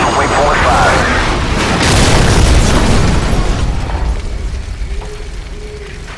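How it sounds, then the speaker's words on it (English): Incoming missile exploding in Call of Duty 4: Modern Warfare, a loud booming blast with rumbling debris that slowly fades, with shouted voices over it. "Incoming missile!"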